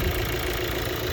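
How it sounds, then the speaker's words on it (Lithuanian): A 2016 VW Golf with a 1.4 engine idles in a steady, even hum, smooth and unbroken with no other sounds. "Variklis dirba"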